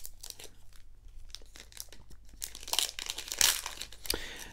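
A Weiss Schwarz trading card pack wrapper is torn and opened up close, giving a quiet run of irregular crinkles and crackling foil tears that grow louder toward the end.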